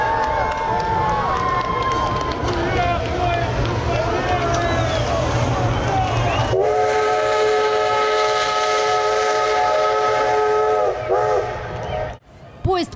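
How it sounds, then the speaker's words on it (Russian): A steam locomotive pulling the Victory Train into the station, its whistle sounding as a long sustained multi-tone blast over crowd noise and rolling rumble, loud and close for several seconds before cutting off. "И вот вдалеке слышен стук колес и паровозный гудок."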